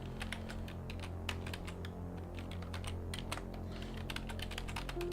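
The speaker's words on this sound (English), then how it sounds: "I'm not used to typing vertically like this." A computer keyboard is typed on held vertically, making a quick, busy stream of close key clicks that keeps going over a steady low hum, with no one speaking.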